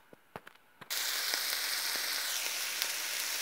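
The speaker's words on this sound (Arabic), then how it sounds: "البصله ديالنا بعد ما طابت انا زدت عليها الدجاج هكذا، نخليهم يتشحروا مزيان" Chicken pieces dropped into a pan of already cooked onions burst into a loud, steady sizzle after a few light taps and clatters, and the frying goes on close and continuous with no talk.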